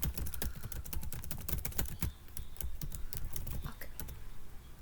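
Fast typing on a computer keyboard, with quick close-up key clicks in an uneven, continuous run and no talk.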